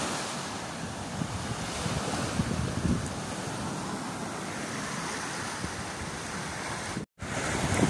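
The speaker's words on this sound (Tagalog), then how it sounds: "Sobrang lakas yung hangin at malaki yung mga alon." Strong wind roars over the microphone while ocean waves crash in a constant loud wash, broken by one brief dropout near the end.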